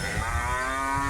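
At the Melapalayam cattle market, a cow lets out a steady, sustained moo that sits over a constant low rumble of market noise.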